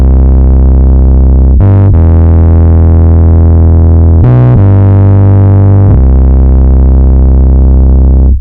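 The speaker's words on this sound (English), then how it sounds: "I added another distortion plugin, which is Raw, which is a stock plugin in Ableton 12, and this makes the synth sound a bit more aggressive" A loud synth run through Ableton 12's stock Raw distortion plugin plays sustained, buzzy, harmonically dense notes that shift pitch a few times before cutting off abruptly.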